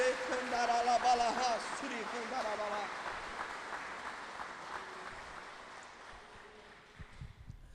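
Church congregation at a communion service applauds, the clapping soft and fairly distant, with voices calling out over it at first before it thins out.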